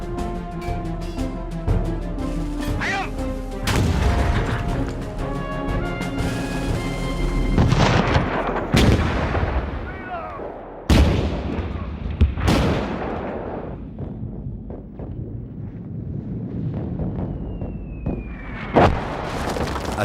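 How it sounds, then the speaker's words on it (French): A Battle of the Somme artillery bombardment from 1916 is rendered as a dense barrage, heavy booms and sharp blasts firing one after another, some close and cracking, others rolling away as distant rumbles. "le feu d'artifice atteint son paroxysme. 60 explosions par seconde."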